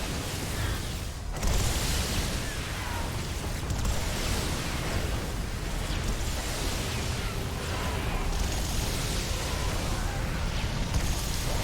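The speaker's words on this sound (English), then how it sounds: "It's the sound of hundreds and thousands of Tempest shots that drives a man insane." Hundreds of Tempest shots firing in a video game battle, a dense continuous wash of crackling bursts and booms, loud and relentless with brief dips.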